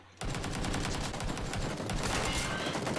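Rapid automatic gunfire from the PUBG video game starts abruptly and keeps going as a loud, continuous burst of closely spaced shots.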